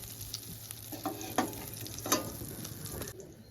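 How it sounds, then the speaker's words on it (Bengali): Prawn heads frying in oil in a pan, steady close sizzle with a few stirring scrapes and pops, no talk. "মাছের মাথাটা কিন্তু একটু ভালো করে ভাজতে হবে।"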